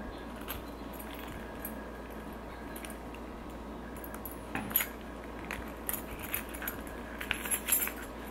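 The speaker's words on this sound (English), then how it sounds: "then we're gonna put the gunmetal key ring on my car key" Keys jangle faintly on a gunmetal key ring holding a car key, with light metallic clinks and rattles growing busier toward the end over a soft room hiss.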